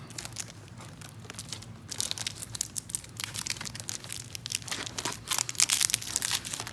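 Thin tape being pulled from a roll and torn during a teardown of a polypropylene sheeting boffer, giving close crinkling and ripping bursts that grow louder in the second half, with no talking.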